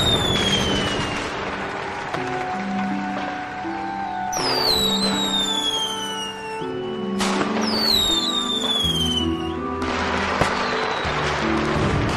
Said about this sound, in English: Aren't those fireworks colorful?